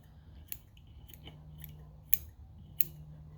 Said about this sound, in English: I'm going to trim these out. I like to trim at an angle like that